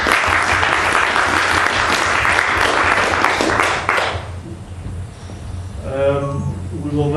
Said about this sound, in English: Please a big applause for Benjamin